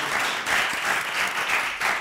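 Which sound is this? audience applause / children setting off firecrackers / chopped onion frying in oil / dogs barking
audience applause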